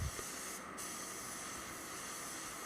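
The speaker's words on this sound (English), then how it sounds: "Change the way I spray around the panel to make sure I don't flick it towards the blend area" A spray gun applies paint to a BMW M3 body panel in a steady, soft, continuous hiss that runs unbroken for a few seconds with no voices.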